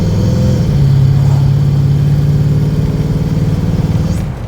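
A 1954 Chevrolet Del Ray engine accelerating on the road, a loud, steady rising drone building over about four seconds before easing off at the end, with no voices.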